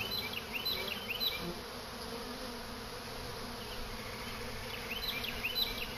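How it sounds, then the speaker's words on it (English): A swarm of honeybees buzzes steadily around a swarm trap outdoors, a dense continuous drone with individual bees zipping close by now and then. "if there's a bunch of bees that are coming back from the swarm that just went into my trap up front"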